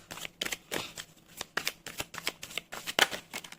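Oracle cards being shuffled by hand, a quick series of crisp riffling flutters and soft slaps in an irregular rhythm, close and fairly quiet with no talking.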